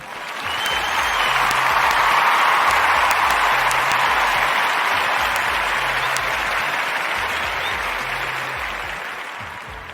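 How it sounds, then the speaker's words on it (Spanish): A sustained round of applause fills the space, many hands clapping in a thick, even wash that swells, holds steady and gradually tapers off. "ya estamos pasando el minuto 14, así que nos merecemos nuestro merecido aplauso."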